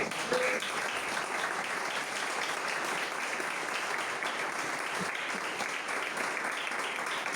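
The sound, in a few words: church congregation applauding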